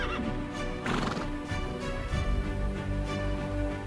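Horses at a large gathering in the Derajat region of Pakistan, with loud whinnies and neighs rising over a steady din of hooves clip-clopping, close and continuous throughout with no talk.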